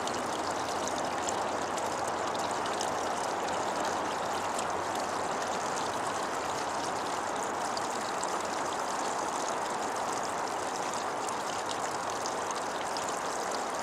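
Stream water runs steadily and continuously over and through a crystal being cleansed outdoors, a close, broadband rushing wash with no break and no talking.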